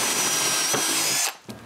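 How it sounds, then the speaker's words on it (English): A power drill bores a bolt hole through a board for a cottage shutter, a loud steady whine that runs continuously and then cuts off abruptly, followed by a short tail of near quiet. "Then it's time to drill this."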